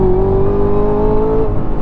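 A 2018 Chevrolet Camaro ZL1 1LE under hard acceleration with the tires losing traction, its engine a loud, close, continuous rising roar that holds strong throughout.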